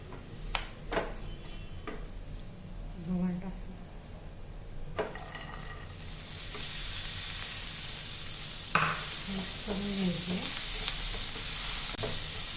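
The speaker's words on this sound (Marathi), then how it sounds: "हळद घालू त्यामध्ये आता गवार टाकणार आहे" Cluster beans with turmeric hit a hot pan: quiet ticks and clinks at first, then a steady hiss of frying swells up and carries on with light stirring.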